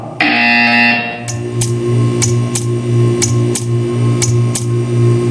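A harsh electronic buzzer in Portal 2 sounds steadily with a low droning hum, while sharp periodic clicks tick along at an even pace over it.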